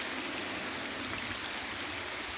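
Heavy village rain pours down in a steady, dense hiss while runoff streams through a lane, a constant wash of sound at even volume with no voices.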